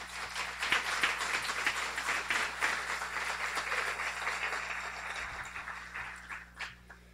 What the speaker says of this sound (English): A round of applause for all of their hard work.